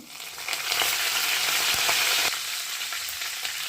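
Curry leaves hit hot oil already holding mustard and cumin seeds, giving a loud, steady sizzle that swells and holds for a few seconds with no talking.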